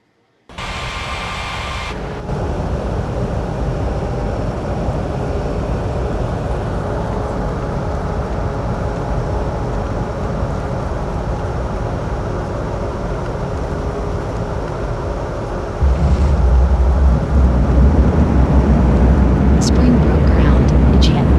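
A steady, loud jet-engine roar runs throughout an air traffic control game as an airliner pushes back from its gate, swelling and deepening near the end.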